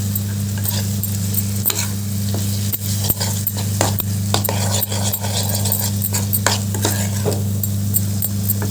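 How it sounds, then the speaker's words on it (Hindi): Chopped tomato fries in a pan with turmeric, coriander powder, chili powder and salt, making a steady close sizzle, while a spoon stirs and taps the pan again and again. "अब इसमे तो इसको भी सब साथ में फ्राई कर लेंगे"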